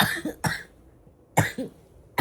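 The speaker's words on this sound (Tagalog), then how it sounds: "Grabe, ubo ko." Three sharp coughs at separate moments, fairly close and loud, with quiet pauses in between.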